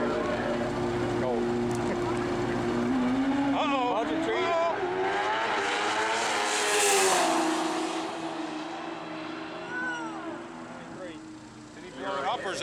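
A turbocharged Pro Street drag race motorcycle at a Valdosta, Georgia strip roars loudly and continuously with rising and falling engine pitch and turbo whine, with people talking over it.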